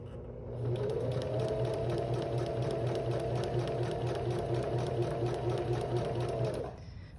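A sewing machine runs steadily for about six seconds, stitching a zipper pouch with a fast, even whirring rattle before stopping.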